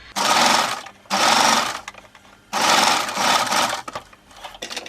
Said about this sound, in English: So I'm going to go ahead and sew it from there to there